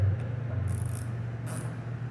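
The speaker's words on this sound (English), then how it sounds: "Get it on the nut and start to unscrew it." Nut on the exterior door handle of a 2024 Hyundai Santa Cruz being unscrewed with a tool, giving faint, close ratcheting clicks over a low steady hum.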